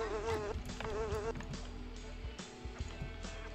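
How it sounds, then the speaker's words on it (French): Large flies buzz in a video game, several droning, wavering tones overlapping continuously and loudly, with in-game sounds and faint clicks behind them. "Des grosses mouches, man."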